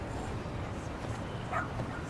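A dog whimpering and giving short yips in the video game Lost Judgment, faint and brief against steady game background noise, with no talk during it.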